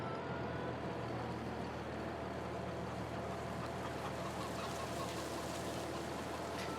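Chickens cluck in the video game Farming Simulator 22, a faint, busy flock on a farm with a low, steady engine drone underneath and no talk.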